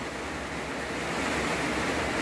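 Steady, loud roar of typhoon wind and heavy rain in the Philippines, a dense broadband wash with low rumbling gusts, continuous and unbroken throughout.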